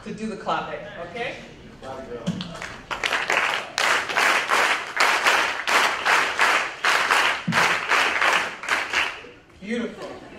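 Audience at a poetry reading and performance claps a clave rhythm in unison, a steady series of sharp, loud handclap bursts after brief voices and scattered claps at the start.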